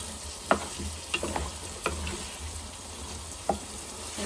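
Cauliflower stir-fried in a pan for a rohu fish curry, with a steady low sizzle broken by a few sharp clatters of stirring at close range, no voices.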